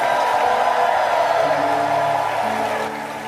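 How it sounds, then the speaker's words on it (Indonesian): A church congregation at a worship service claps and cheers loudly. The noisy crowd swells with whoops and sustained shouting, blended with a droning musical backdrop that fades slightly at the end. "Ayo tepuk tangan yang meriah bagi Kristus Yesus Tuhan. Aluk-alukan Dia dengan sorak-sorai."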